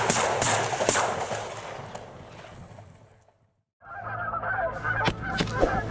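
Canada geese honk in flight over a hunting spread in wet, windy weather, a dense overlapping chorus of loud calls that breaks off for a brief silence, then resumes as harsh near honking.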